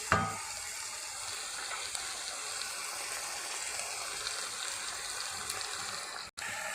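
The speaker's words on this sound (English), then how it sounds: "So we'll fry for 2 to 3 minutes, or the raw smell of the tomatoes are gone" Tomatoes fry in a pan for pasta sauce, giving a continuous close sizzle with soft stirring scrapes throughout and a brief dropout near the end, with nobody talking.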